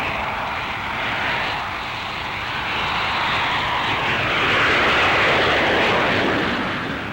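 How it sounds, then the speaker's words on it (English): A Hawker Hunter two-seater jet takes off, and its engine roars as a loud continuous broadband rush that slowly swells toward the end, heard alone without voices. "The student has taken off for his first solo transonic dive."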